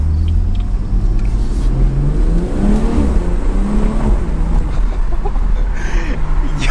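A BMW 340i with the B58 engine accelerates hard from inside the cabin, its steady rumble climbing in pitch and briefly dropping at each gear shift, with a couple of shifts close together.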